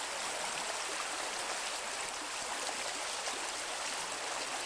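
Outdoor stream flowing at a bend among trees, a steady broad rushing wash of water, close and continuous, with no voices.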